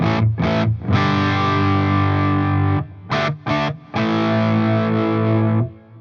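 Distorted electric guitar chords through a Synergy Marshall JMP preamp module ring out loud and crunchy, with short choppy stabs followed by long sustained chords.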